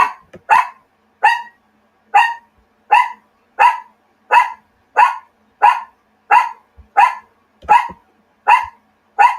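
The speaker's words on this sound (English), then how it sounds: "I don't want all of that dog's noise on here" A dog barks in a steady series of about a dozen sharp, loud barks spaced roughly evenly apart, close by, with no talk over them during a live stage broadcast.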